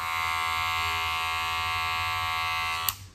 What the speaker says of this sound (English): we got the Wahl Cordless Magic Clip